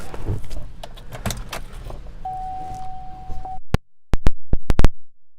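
Power window motor of a 2014 Chevrolet Cruze LT running in a steady hum for about a second and a half amid interior car noise, followed by a few sharp clicks near the end.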